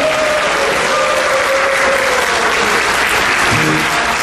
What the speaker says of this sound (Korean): 안영배 자기회장에게 힘찬 격려의 박수 부탁드립니다